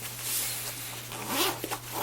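A zipper on a soft camera case pulled in a few quick strokes, close and crisp, with a steady low hum underneath.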